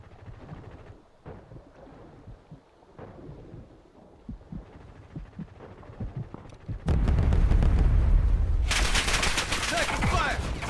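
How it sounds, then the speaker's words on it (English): Gunfire in the video game Warzone: scattered distant shots and thumps at first, then heavy, loud, sustained fire and booming blasts filling the last few seconds, with some talking underneath. "Taking fire!"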